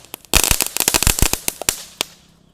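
A rapid string of firecrackers set off in water, sharp pops and cracks tumbling over one another in a loud, close burst before thinning out to a few last snaps.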